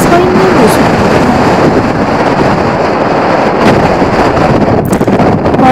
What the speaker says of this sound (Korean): 바람이 불어서 자전거 바퀴가 돌고 막 바람 때문에 이렇게 움직일 수가 없어서